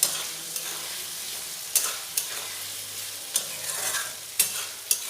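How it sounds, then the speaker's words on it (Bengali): Potato pieces fry with turmeric and salt in a pan for a vegetarian chana masala, a soft continuous sizzle broken by periodic sharp scraping knocks of a spatula stirring them, with no talking. "আলুগুলো ভাজা হয়ে গেছে।"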